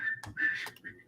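A voice imitates a whistle with a few short, shrill tooting bursts in quick succession, close and alone without speech.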